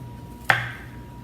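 A single crisp knife chop through an onion on a cutting board while cutting it into wedges, one short close thud in an otherwise quiet kitchen.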